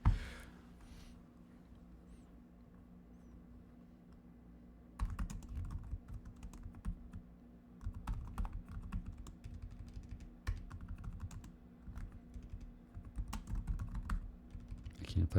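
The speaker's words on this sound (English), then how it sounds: "I can't type on this keyboard." Computer keyboard keys clattering in bursts of fast typing, starting after about five seconds of quiet room tone with a low steady hum underneath, fairly close and with no voices.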